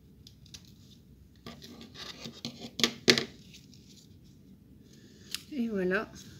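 Scissors trim the small edge of a sheet of paper for a Christmas cutlery-holder scrapbooking craft, giving a quick series of crisp snips and scrapes up close, followed by a brief voice.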